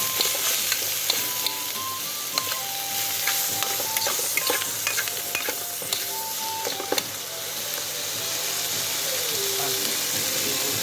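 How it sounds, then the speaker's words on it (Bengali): Button mushrooms fry in a hot pan for pasta, with a steady sizzle and crackle plus scattered clinks and scrapes of a spatula stirring, running continuously without speech. "এবার দিয়ে দিচ্ছি মাশরুমটা, বটন মাশরুম দিয়ে দিলাম।"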